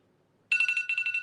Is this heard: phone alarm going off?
yes